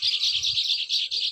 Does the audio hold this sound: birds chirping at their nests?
yes